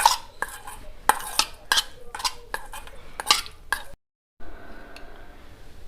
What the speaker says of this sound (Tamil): இதெல்லாம் சேர்ந்து கலந்துக்கலாம்.